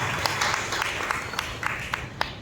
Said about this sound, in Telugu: చప్పట్లు కొట్టి మనం ప్రభువుని మహిమపరచాం.